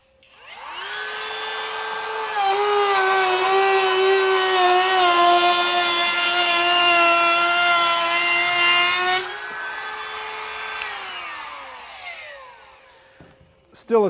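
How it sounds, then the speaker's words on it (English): A Kobalt 24V brushless compact trim router cuts a groove, its steady high-pitched motor whine holding loud and near for several seconds before dropping in load and spinning down, with no talking over it. "no problem whatsoever to eat right through there"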